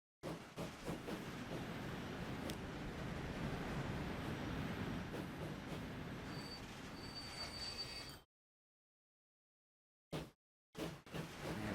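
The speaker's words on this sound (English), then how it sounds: "Oh, you're the oil train, okay." An oil train runs in Transport Fever 2 with a steady, dense rolling rumble and occasional high wheel squeals for about eight seconds. It cuts to silence, then returns as a few short bursts.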